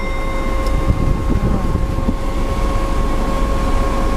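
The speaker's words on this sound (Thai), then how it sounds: "อุ้งอิงเปิดแอร์ที่ระดับความแรง2เราลองเปิดที่เต็มแม็กให้นะคะ โอ้โห ตกใจ ตกใจความแรงของลม" Air conditioning fan in a 2018 Isuzu D-Max 1.9 Ddi-S single-cab pickup, blowing at full strength as a loud, steady broadband rush with a faint constant whine running throughout.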